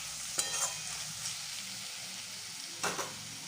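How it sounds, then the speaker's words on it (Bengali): Papaya pieces fry in a pan with a steady, close sizzle, broken by a few sharp stirring scrapes near the start and again toward the end. "পেঁপেটা আমার ভাজা ভাজা হয়ে গেছে।"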